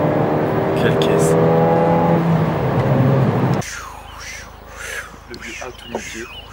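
A Ford Fiesta ST200 engine revs hard and loud for a few seconds before cutting off abruptly, followed by quieter ambience with voices speaking.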